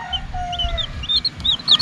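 A hen and newly hatched chicks cluck and cheep in short repeated bursts, with high peeping calls scattered throughout over a low rumbling background.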